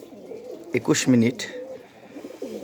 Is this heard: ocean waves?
no